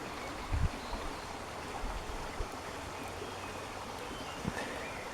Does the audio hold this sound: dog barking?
no